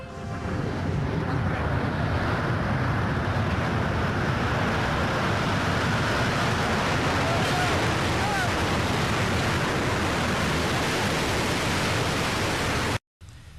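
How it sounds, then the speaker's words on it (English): World Trade Center tower collapsing, heard as a continuous, loud, dense roaring rumble that holds steady for several seconds before cutting off abruptly into a brief silence. "Here is the rumbling first of the World Trade Center tower"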